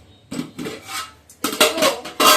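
A metal lid clanks onto a cooking pot in a home kitchen, with several close, bright rattles and knocks of pots and utensils in quick succession.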